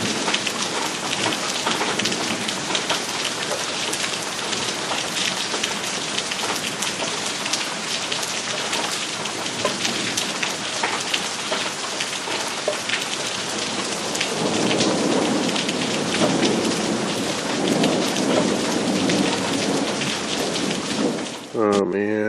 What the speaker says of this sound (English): There's a thunderstorm going on right now.